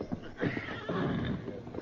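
Horse neigh in a radio drama, a loud, close whinny with rising and falling pitch in a stage sound effect that lasts nearly two seconds, with faint voices beneath.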